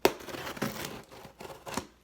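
Child's scissors cut open a mailed package in a few quick, close snips with crinkling of plastic or paper in between, quiet and without speech.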